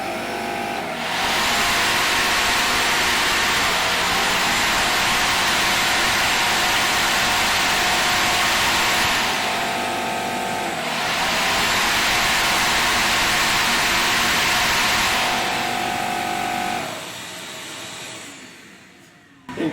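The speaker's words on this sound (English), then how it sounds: "Now let me add in a shop vac with the saw with the compressor." A shop vacuum runs together with a saw and an air compressor, forming a loud, steady roar of machinery with two long sustained surges and a brief dip between them, then tapering off near the end.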